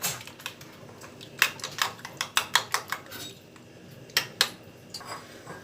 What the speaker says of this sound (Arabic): واقلبهم كويس مع بعض